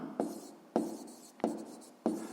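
Pen strokes while writing out a sixth-grade math solution on paper: four distinct, evenly spaced scratching strokes, close and clear, with no talk.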